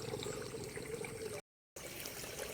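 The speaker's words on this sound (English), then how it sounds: "water just comes here and then out into the river" Water runs steadily downhill into a river, a constant faint trickling wash heard at a distance, broken by a brief silent gap partway through.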